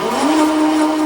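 A Tuttio electric bike motor spins under throttle, giving a close, steady whine whose pitch rises briefly and then holds at a high, even tone.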